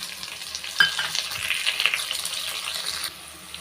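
Ginger, curry leaves and coriander sauté with a pinch of rock salt in a pan for a millet pidi kozhukattai, giving a steady close sizzle with a sharp clink and light stirring scrapes.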